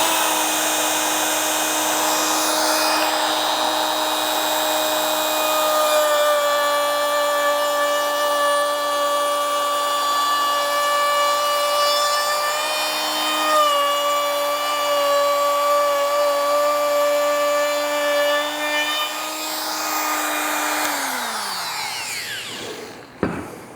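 A Bosch Colt 1HP variable-speed palm router cuts a 1/4 inch roundover in wood at speed setting 4, a loud steady high-pitched motor whine with a brief dip mid-cut, ending as the motor spins down to a stop.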